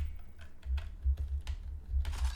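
Computer keys are typed in an irregular run of light clicks and taps during PC play of Resident Evil Village. The clicks are close and fairly soft over a low background hum, with no speech.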